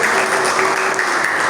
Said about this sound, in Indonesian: Dari tepuk tangan buat anak kita ya.